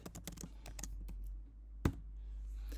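Quick, light keystrokes rattle on a computer keyboard in a close, quiet room, with a fast burst of clicks, a brief pause, then a single sharper key press.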